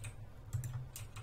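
A couple of soft, quick key presses on a computer keyboard at a desk, quiet and close over a faint steady room hum.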